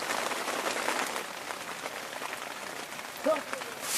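Steady rain falls at an outdoor fishing pond, a dense, even wash of patter with no break, heard up close and alone.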